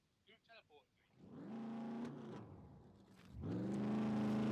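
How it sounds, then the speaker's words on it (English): A car in the survival game Scum approaches, its engine hum swelling from quiet to a steady, loud drone with a brief dip and then a stronger surge, following a few short voiced sounds at the start. "Sounds like there's a car coming."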